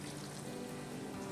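A cup of beer pours into a pot of venison chili, a brief steady liquid gush and splash, close and continuous throughout without any talking.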